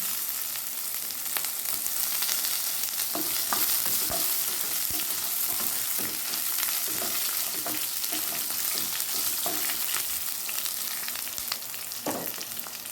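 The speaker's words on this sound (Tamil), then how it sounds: "வெங்காயம் நல்லா வதங்கிடுச்சு" Sliced onion and garlic frying with curry leaves in a pan, a continuous bright sizzle broken by frequent scraping stirs and taps of a spoon, steady and close throughout.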